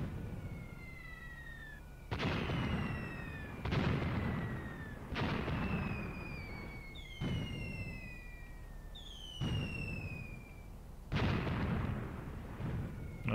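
82mm mortars firing in the war game Graviteam Tactics, sounding as a series of about six heavy booming launches spaced a second or two apart, with whistling shells descending in pitch overhead between them.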